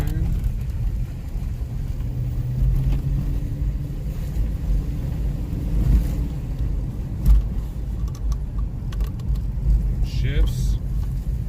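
A 2006 Dodge Magnum with a newly swapped transmission drives along, giving a steady low engine and road rumble heard from inside the car, with brief knocks and a faint voice partway through.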